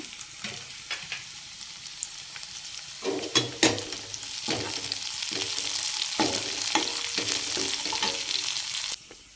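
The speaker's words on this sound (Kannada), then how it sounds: "ಇದಿಷ್ಟು ಫ್ರೈ ಆಗಿದೆ ಕೊತ್ತಂಬರಿ ಸೊಪ್ಪು ಹಾಕ್ಕೊಳ್ಳೋಣ" A puliyogare mixture of tamarind rice seasoning with coriander leaves fries in a pan, a continuous sizzle with sharp scraping and clattering stirs, louder in the middle and stopping near the end.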